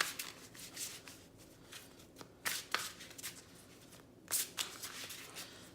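Tarot cards being shuffled by hand, soft riffling bursts and flicks at close range, quiet and irregular, with no talking.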